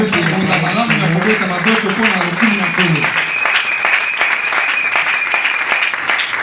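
Church congregation applauding as an offering of acclamation, dense sustained clapping throughout, with a sung or spoken tone in the first half and a steady held tone later.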